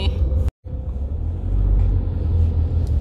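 Rush-hour traffic in Daegu rumbles as a low, steady engine and road drone heard from inside a slow-moving vehicle, briefly cut out, then swelling louder.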